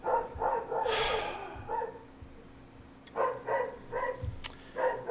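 A dog barks repeatedly in loud, close bursts, an early cluster, a pause, then several more sharp barks in an irregular rhythm, with no talking over it.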